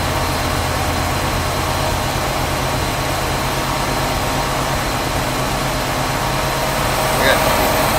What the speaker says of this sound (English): The cool thing about the onboard air is the faster the engine goes, the faster the pump.